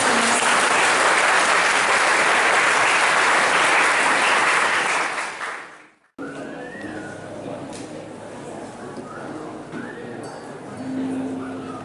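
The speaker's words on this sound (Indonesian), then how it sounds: "Tepuk tangan untuk Kak Krisna" Loud, dense applause from a school audience at SMA Taruna Nusantara in Magelang fills the first six seconds, then cuts off abruptly, giving way to quieter room noise and scattered voices.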